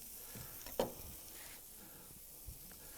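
A burger patty sizzles on a cast iron grill in a faint, steady hiss, with one sharp spatter or scrape near the start and a softer knock later.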